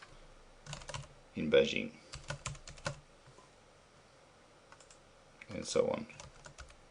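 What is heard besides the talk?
typing on a computer keyboard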